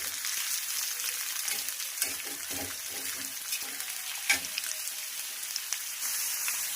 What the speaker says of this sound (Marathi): आता घालूया आपण कांदा तर कांदा आपल्याला छानपैकी असा परतून घ्यायचा आहे